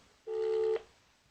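A single telephone keypad dialing tone sounds briefly and cleanly, a short steady beep of under half a second on a line to a city hall, alone with no talking.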